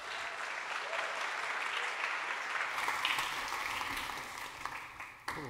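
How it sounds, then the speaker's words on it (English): An audience at a design talk applauds to welcome a speaker, sustained even clapping from a crowd at moderate distance, continuous throughout with a brief sharp knock near the end. "please give him a big round of applause."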